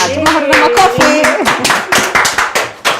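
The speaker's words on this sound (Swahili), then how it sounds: "Tumahore na makofi." An audience claps in a loud, uneven burst of handclaps, while voices and tonal sounds are heard under the first half.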